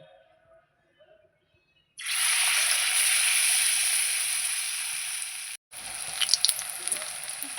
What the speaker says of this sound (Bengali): পাট পাতার বড়াগুলো ভেজে নেব